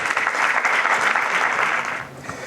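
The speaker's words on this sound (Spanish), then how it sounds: "un aplauso, por favor" An audience at a talk on encounters with the unknown claps warmly for a presenter who is about to speak, a full burst of applause that fades slightly near the end.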